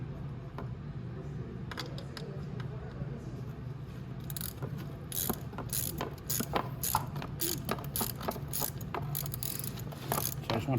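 A 10 mm wrench loosening Loctite-secured sprocket bolts on a Venom E-Madix 1300w electric ATV, with rapid repeated ratcheting clicks that grow louder and busier midway, close to the work.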